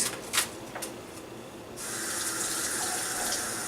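Tap water runs steadily into a sink while onions are rinsed, a constant rushing hiss that starts partway through after a few light clinks and splashes.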